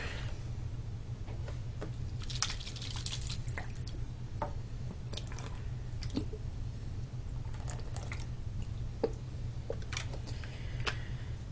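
A sniffer bottle sucks gold flakes and water out of a gold pan, making faint, steady wet squishing and small drips over a low background hum.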